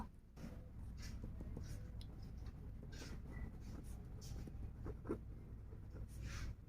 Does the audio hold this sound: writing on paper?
yes